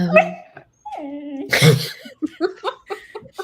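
A dog whimpers and yips in a few quick, high, wavering cries close by, with people talking and laughing around it.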